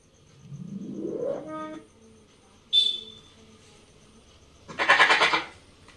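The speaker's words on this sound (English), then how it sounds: "The goat make bleat sound." A goat bleats in short calls: a rising wavering bleat, a brief sharp cry, then a harsher noisy bleat, each separated by quiet pauses, close and alone.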